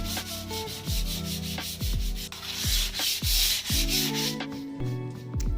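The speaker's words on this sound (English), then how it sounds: "I also did scuff sand the entire piece prior to the priming as well" Continuous close-up hand scuff sanding of furniture before priming, sandpaper rasping back and forth across a wooden surface, with occasional thumps as the stroke shifts, no voices.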